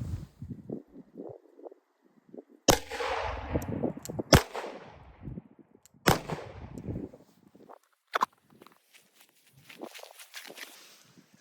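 Shots are fired at a target with a pistol fitted with a sight, about four sharp, loud reports spaced a couple of seconds apart, with quieter handling and shuffling noises between them.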